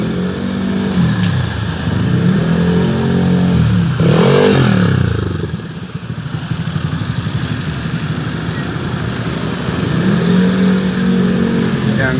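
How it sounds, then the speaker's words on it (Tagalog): Heavy road traffic jam of cars and motorcycles near an overturned dump truck with a blown tire: loud, close engine drone with motorcycles revving up and down in repeated swells, continuous throughout. "sobrang traffic"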